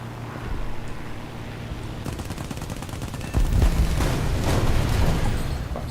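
Anti-aircraft flak fire in War Thunder, a loud, dense barrage that kicks in partway through, with rapid repeated bursts and booms stacking over a low rumbling battle background.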